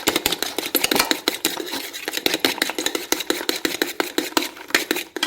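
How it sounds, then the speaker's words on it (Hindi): Cream batter with homemade malai for banana French toast being mixed in a bowl, heard as rapid, close, uneven clicking and scraping strokes that continue steadily with no voices. "तो हम मिक्स कर लेंगे अच्छे से"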